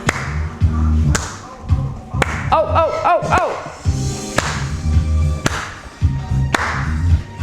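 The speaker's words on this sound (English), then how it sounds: "You want to put a clap?" Scattered single hand claps, sharp and fairly close, land every second or so over steady upbeat music during a relaxed group dance routine, with a brief voice calling out.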